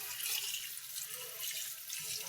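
Pasta being rinsed under running water from a tap, a faint, steady splashing and trickling close by with no voices.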